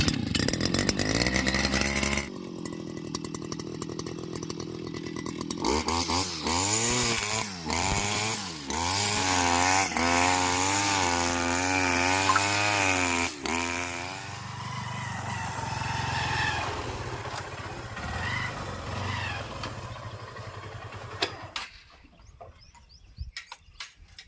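Gasoline grass cutting machine kick-started for cutting dried grass outdoors, its small engine sputtering, revving up and down in loud, changing pitch, then settling and cutting off near the end.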